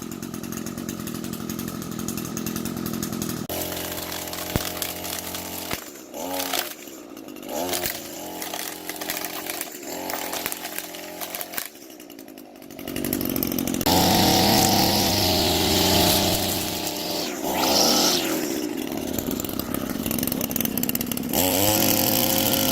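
An ECHO SRM 225 21cc gas grass trimmer warms up, its small two-stroke engine droning loudly, dipping and sputtering in the middle before revving back up to a harsh, sustained buzz.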